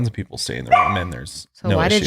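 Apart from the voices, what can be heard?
puppy dog barking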